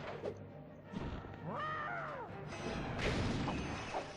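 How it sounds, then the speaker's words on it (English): A loud crash in The Legend of Spyro: A New Beginning, a burst of impact with a swooping tonal sweep and ringing game effects, over steady background music. "Whoa, that was a big ass explosion"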